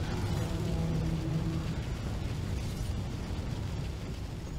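A bomb explodes in the video game Left 4 Dead 2, heard as a loud, sustained, deep roaring rumble that fills the whole stretch and fades slightly toward the end, with no voices.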